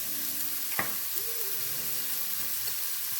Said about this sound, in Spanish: Vamos a ir revolviendo aquí por lo menos 5 minutitos